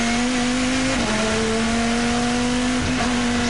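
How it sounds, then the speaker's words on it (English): Onboard a Ferrari GT race car at Silverstone, the engine holds a loud, steady high-revving drone with a brief dip around a gear change before pulling on at full throttle. "The Ferrari is really motoring past one of the NGT cars up the inside"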